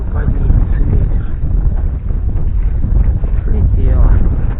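Strong wind buffets the microphone at a night fishing spot on the water, a steady low roar and rumble that carries on without pause.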